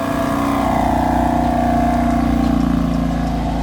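A stock-exhaust BMW F80 M3 engine revs loudly and steadily in Sport Plus mode, holding a dense, continuous rumble close by with no talk over it.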